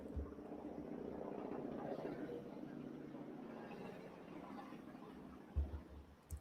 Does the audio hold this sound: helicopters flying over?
yes